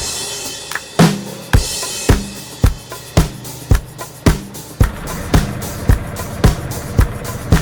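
A converted camper van sits on brake-testing rollers at a vehicle inspection, with loud rhythmic thumps repeating about every half second over a droning mechanical rumble, close and steady.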